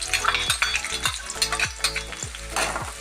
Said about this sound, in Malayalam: അപ്പോൾ അതിൽ സബോള ഇട്ടു